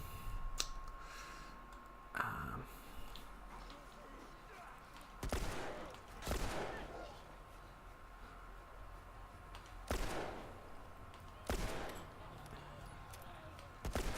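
Gunshots in The Last of Us video game, several sharp separate reports spaced a few seconds apart over a quiet background.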